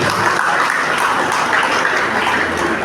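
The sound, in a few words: applause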